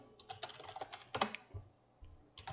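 Quiet, quick keystrokes on a computer keyboard enter a terminal command, a run of light clicks in short bursts with brief pauses, close and soft with no voices.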